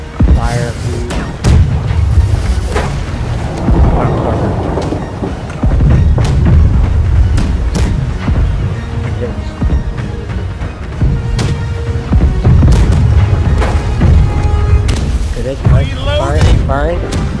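Ship cannons firing during a naval battle in the game Blackwake, a series of loud booming blasts at irregular intervals amid constant rumbling combat noise, with voices shouting over the action.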